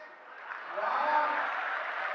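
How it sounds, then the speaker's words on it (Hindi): Audience at a Hindi comic poetry recital clapping, a fairly faint, steady patter of applause from a crowd that swells slightly and holds for about two seconds. "तालियां थोड़ी है"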